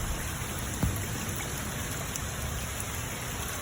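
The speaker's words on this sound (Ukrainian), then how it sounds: "Дощ лупаше." Steady heavy rain pouring down outdoors, a dense continuous hiss of drops on surfaces with one faint knock partway through.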